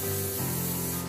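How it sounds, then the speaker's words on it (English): A spray bottle misting water over the top of bread dough before proofing, one steady loud hiss lasting about a second. "I'll give a spray to the top of the dough"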